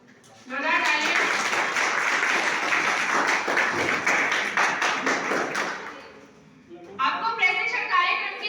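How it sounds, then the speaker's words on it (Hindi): Loud, dense applause from an audience at a youth dialogue event, sustained for about five seconds before fading, followed by a brief spoken voice. "जोरदार तालियां।"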